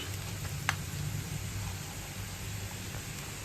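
White cumin seeds hit onions frying to a light golden in a pan, giving a soft, steady, close sizzle with a faint hiss and no voices.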